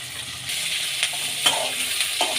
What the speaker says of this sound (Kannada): ಎಣ್ಣೆಯಲ್ಲಿ ಹುರ್ಕೊಳ್ಳೋಣ ಈಗ ಈರುಳ್ಳಿ ಹಾಕ್ಕೊಳ್ಳೋಣ